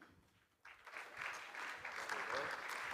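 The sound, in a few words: audience applause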